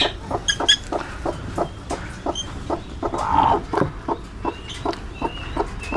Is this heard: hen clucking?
yes